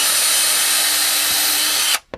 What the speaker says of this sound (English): I'm just going to drill a hole in here